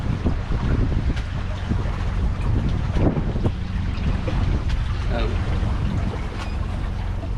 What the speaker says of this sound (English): So, wind's steadily picking up.